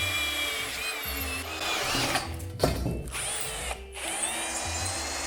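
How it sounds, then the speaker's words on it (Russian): A power drill with a 6 mm bit whirs steadily as it bores through metal, with brief pitch dips and a grinding squeal as the bit bites. "Сначала насквозь прокручиваю сверлом 6."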